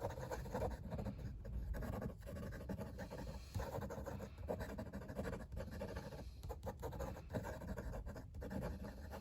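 Quick handwriting on paper with a Lamy CP1 fountain pen and a slightly scratchy nib, a continuous close, faint scratching with brief pauses between strokes.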